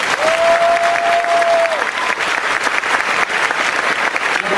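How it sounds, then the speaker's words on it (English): Loud, sustained applause from an event audience, thanking volunteers at a Dallas appearance by James and Oliver Phelps, dense and continuous throughout, with a brief steady tone early on. "Lead us in a round of applause for our volunteers."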